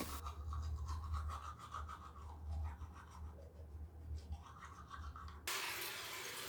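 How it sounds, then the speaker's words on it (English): Toothbrush scrubbing teeth close up, a quiet rapid bristly scratching with a soft low hum underneath, steady then cut off abruptly. "Brush your teeth."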